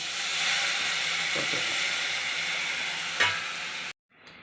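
Continuous loud sizzling of masala spices frying in a pan, with a couple of soft stirring knocks, then an abrupt cut to near silence.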